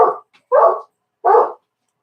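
A dog barks nearby, three loud separate barks spaced about half a second apart, heard alone with no talk. The dog is in a neighborhood in Mt. Juliet, Tennessee.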